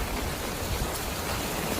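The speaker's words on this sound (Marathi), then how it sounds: "पाऊस सांगण्याजोगच नाही, इतका पाऊस आलेला आहे" Heavy monsoon rain in a village, a dense, unbroken roar of falling water that stays loud and steady throughout.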